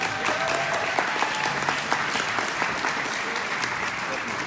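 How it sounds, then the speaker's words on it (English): A crowd at a cannabis industry event in Hollywood breaks into sustained applause, dense clapping that stays loud and even across the whole stretch, with no talking over it. "Everybody give her a round of applause."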